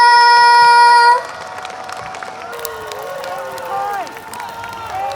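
Crowd applause and scattered cheering rise as music fades out at an outdoor concert at Sacheon Sports Complex, with shouts from the audience continuing over the clapping.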